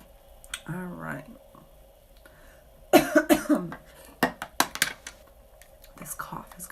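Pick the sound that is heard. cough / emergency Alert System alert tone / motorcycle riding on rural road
cough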